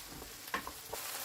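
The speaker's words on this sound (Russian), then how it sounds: "Все это время жарится на среднем огне." Onion and potatoes frying in a pan over medium heat give a steady, dense sizzle with a few soft ticks and pops on top, quiet and continuous with no voices.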